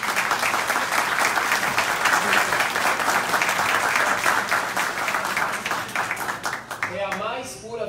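Sustained, dense applause from a large audience at a rabbi's lecture during a conference, steady and loud throughout, thinning slightly near the end as a voice begins to speak.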